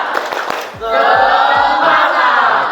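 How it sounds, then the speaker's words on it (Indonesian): A classroom of students does a rhythmic spirit clap cheer, with a few sharp claps and then a loud sustained burst of group chanting and shouting that holds to the end. "Oke, tepuk semangat."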